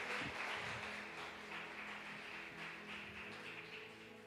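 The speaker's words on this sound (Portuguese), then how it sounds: "aplauda o Senhor Jesus" Church congregation applauding together in worship, a steady broadband wash of clapping that stays loud and dense throughout, with a faint sustained tone underneath, no voices standing out.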